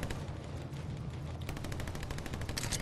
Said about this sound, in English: No, I hear shooting. Someone's shooting.